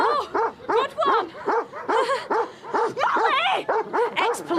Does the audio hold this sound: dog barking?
yes